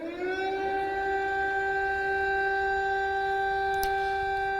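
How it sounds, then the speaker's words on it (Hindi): A loud air raid siren swells up to a sustained, wailing tone and holds it steadily throughout. "तो इस सायरन की आवाज भी आप सुन पा रहे हैं"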